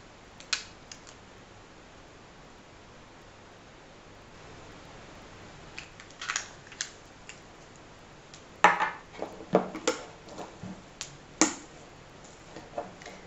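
A thick solid shampoo paste scraped and mixed in a bowl. Quiet room, with sparse soft clicks and taps at first, then a denser run of louder scraping knocks as the utensil works the stiff mixture.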